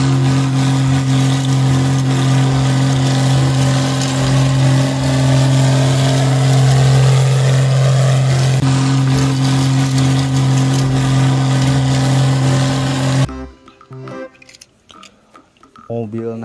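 A toy yellow motorbike gives off a steady, buzzing engine-like drone with a constant hum that stays loud and even for several seconds, then stops abruptly, leaving faint scattered noises.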